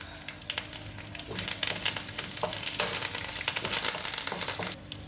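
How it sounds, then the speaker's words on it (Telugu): Tempering spices and curry leaves fry in ghee. The crackle starts soft, then rises into a dense, loud sizzle with stirring taps and pops before it drops off near the end. "ఇప్పుడు తాలింపు వేగిపోయిందండి"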